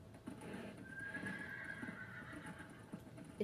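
A horse in the Minecraft video game lets out a long, wavering whinny over a steady background of clip-clopping hoofbeats during a horse race, moderately loud with no talk.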